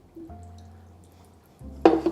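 Water soaking through dry potting soil in a jade plant pot and trickling out the drain hole, with low steady drips and gurgles that swell into a brief louder bubbling burst at the end.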